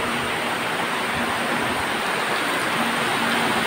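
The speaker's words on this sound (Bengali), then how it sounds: "বৃষ্টির যে একটা শব্দ" Steady rain pours down around a partly built block of unrented rooms, a dense, even hiss that holds at the same level throughout with no voices over it.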